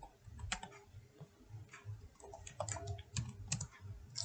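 Quiet, steady typing on a computer keyboard, a run of soft key clicks in an uneven rhythm, close by with no talking.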